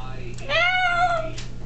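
A person's voice imitates a cat, giving one drawn-out, rising-then-falling meow near the microphone over a faint low hum, with brief breathy sounds before and after.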